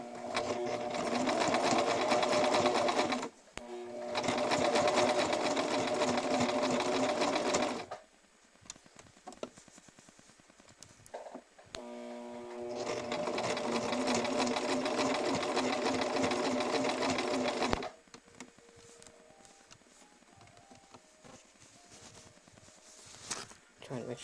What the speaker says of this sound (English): we're going to just sew a wobble stitch 1/4 inch seam here.